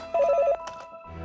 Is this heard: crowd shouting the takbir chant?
no